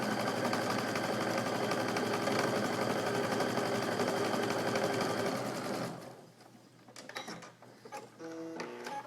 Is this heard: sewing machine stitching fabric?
yes